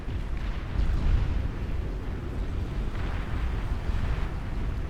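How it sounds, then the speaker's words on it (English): Heavy explosive shelling rains down from airborne ships during a large real-time strategy game battle, a dense, continuous low rumble of blasts with a slight swell near the start and no talking. "the Tyrannus taking down the flagships with an absolute fusillade of fire from the skies"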